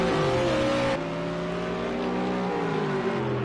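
GT3 race cars, including a Renault, roar past at racing speed, with a loud continuous engine drone whose pitch slides as the cars accelerate and shift.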